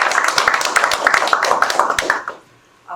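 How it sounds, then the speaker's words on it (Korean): A crowd at a neighborhood residents' general assembly claps steadily for about two seconds, then the applause fades to near silence before a faint sound at the end. "여러분 따뜻한 박수 부탁드립니다"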